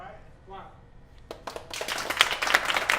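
Applause from a live studio audience starts thin, then swells into dense, rising clapping that grows louder toward the end, with a brief voice heard before it.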